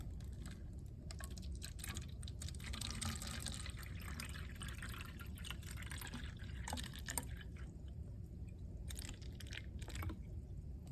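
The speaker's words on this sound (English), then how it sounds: "we are going to get some water and we are going to pour it in" Water is poured into a container for a classroom-style heart model, filling it nearly to the top, with a steady close trickling and dripping that runs continuously and alone.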